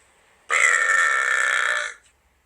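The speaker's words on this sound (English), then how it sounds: "Make another burp, please." A single long, loud, rasping burp rises sharply and holds for about a second and a half before cutting off, heard alone in a quiet room during a live stream.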